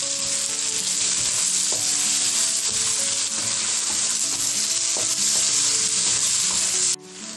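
Oyster sauce stirred into food frying in a pan: a loud, dense, continuous sizzle with intermittent scraping of the spoon against the pan, close up, dropping away abruptly near the end.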